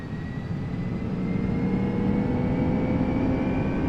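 Airbus A340 with CFM engines spooling up for takeoff in the X-Plane 12 flight simulator, a loud, continuous engine roar with a steady rising whine that swells slightly and then holds, with no talking.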